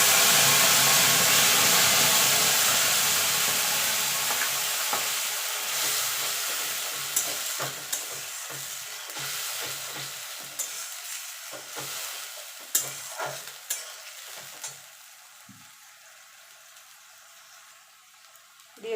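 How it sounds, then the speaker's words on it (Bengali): Tomato paste sizzles loudly as it hits hot oil tempered with whole garam masala, cumin and dried chilli for a potato curry in yogurt gravy; a steady frying hiss is broken by stirring scrapes and spatters, then fades quieter near the end. "ফোড়নটা হয়ে গেছে, এখানে দিয়ে দেবো টমেটো বাটা।"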